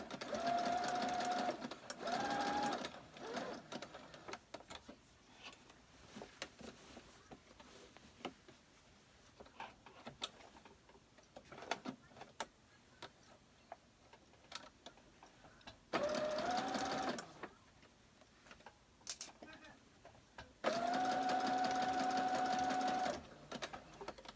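A sewing machine zigzag-stitching a torn shirt runs in several bursts of fast, whirring mechanical rattle with a rising motor whine, separated by quieter stretches of small clicks and handling.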